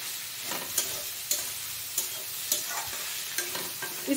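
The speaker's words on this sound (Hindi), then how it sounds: "सारे मसाले डाल दिए, अब इसे हम मिला लेंगे।" Kundru (ivy gourd) pieces tossed with spices and Kashmiri red chilli in a hot pan, a spoon scraping in regular strokes roughly every half second over a steady close sizzle.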